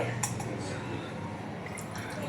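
Water pours into a strained cooking mixture as a steady, close wash of trickling liquid with a few drips, alone without talk.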